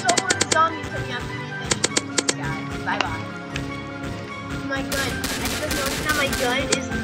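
Rapid electric gun fire in a Roblox zombie game, quick bursts of repeated shots with a continuous crackling buzz toward the end, under a player talking.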